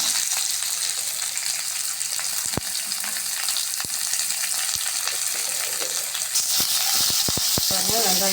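Onions sautéing in a pan with curry leaves and garlic, a steady broadband sizzle throughout, close and loud, with occasional sharp clicks and stirring scrapes toward the end.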